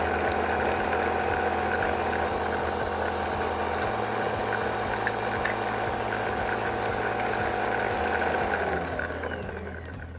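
Ankarsrum stand mixer working cookie dough, a steady mechanical whir with a rhythmic gear-like ticking that runs continuously and fades slightly at the end.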